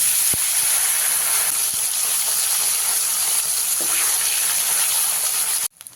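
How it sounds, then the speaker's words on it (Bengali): Fish pieces fry in hot oil in a home kitchen, a continuous close hissing sizzle with a couple of faint clinks, cutting off abruptly just before the end. "এইভাবে বাকি মাছগুলো আমি ভেজে নিই"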